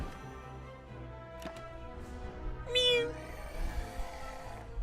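A person imitates a cat's meow, a single short, pitched, wavering call near the middle, heard over steady background music and game sounds.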